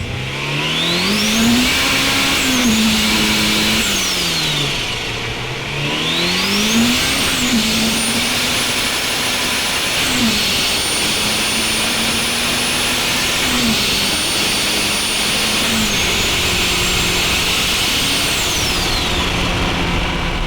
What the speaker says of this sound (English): You get quite a lot of turbo spool as well